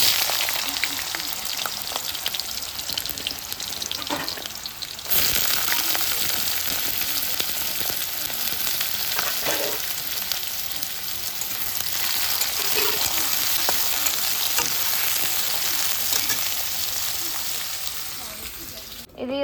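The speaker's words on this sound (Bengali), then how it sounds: "এদিকে আমি কড়াইয়ে তেল দিয়ে দিয়েছি" Black cumin seeds frying in mustard oil in a wok, a bright continuous sizzle and crackle that swells sharply a few seconds in, with occasional stirring knocks, close and steady throughout.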